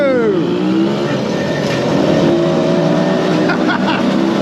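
A car passing a small 50cc moped, a Puch Maxi or BSA Ariel 3, on a touring ride, with a loud steady engine drone and a brief rising whoosh early on, overlaid by continuous road and wind roar.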